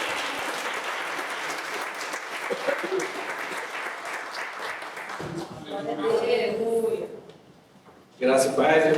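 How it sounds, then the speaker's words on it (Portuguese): A church congregation at a conference applauds loudly and steadily. A voice speaks over the clapping, then the clapping fades and brief speech follows. "Vamos aplaudir ao Senhor."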